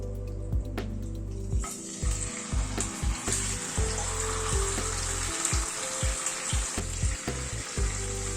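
Spice-marinated chicken frying in a hot pan after a fragrant tempering gives a loud, continuous sizzle, with repeated clatters and scrapes from the pan up close.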